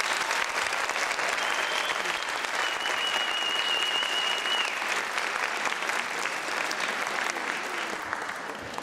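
A large audience at a university students' Diwali show applauds continuously, dense clapping that stays loud and then tapers slightly toward the end.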